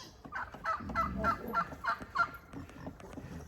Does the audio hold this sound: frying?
no